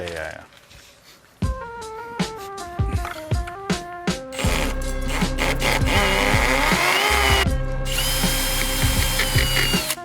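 A power drill whirs in repeated short bursts before running long and loud, driving 5/16 by 3-inch lag screws into a wooden beam at close range.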